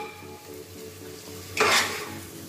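Mutton curry masala with tomatoes sautéing in a pan, a low steady sizzle with stirring scrapes, then a sudden louder burst of frying hiss that slowly fades.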